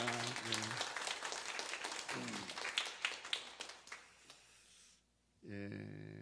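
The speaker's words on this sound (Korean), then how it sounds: "우리 박수로 감사합니다." Church congregation applauding two guests from New Zealand during a Sunday worship service, a bright patter of many hands clapping with a sustained tone underneath, fading out and then followed by a steady hum after a brief lull.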